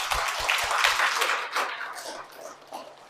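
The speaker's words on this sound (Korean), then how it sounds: "이 영광스러운 일을 알려주신 하느님께 감사의 박수 올려드립시다." A church congregation bursts into sustained applause of thanks to God, a dense wash of many hands clapping that stays steady and then gradually tapers off.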